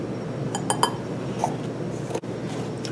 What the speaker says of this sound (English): I'm going to use the lid of the baking powder to level off my measuring spoon.